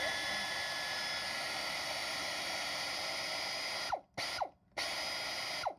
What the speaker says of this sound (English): So you guys can see why I like to use air tools.